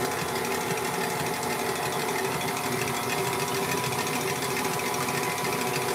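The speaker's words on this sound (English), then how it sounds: "Gonna get it whisking." An electric mixer whisks pink macaron mixture in a bowl, making a loud, steady motor whir with a rattling buzz that runs without a break.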